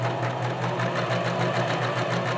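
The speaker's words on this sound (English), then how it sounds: "And then I'll press the pedal. The machine will pull the fabric through." A sewing machine runs steadily, stitching a basic seam through fabric, with a continuous close whir and fast even needle chatter for the whole stretch and no talk.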